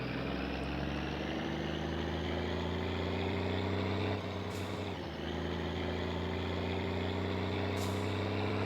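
A car engine in the game My Summer Car runs continuously with a steady droning hum and layered harmonics, its pitch dipping briefly midway as the revs waver, after a new alternator and flywheel.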